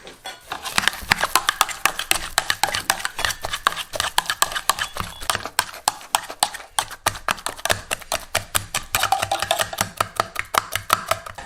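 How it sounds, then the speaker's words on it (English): Rapid, rhythmic squelching thumps of a regular potato masher pressing down into bananas, repeated steadily and close with no talking. "I'm just using a regular potato masher."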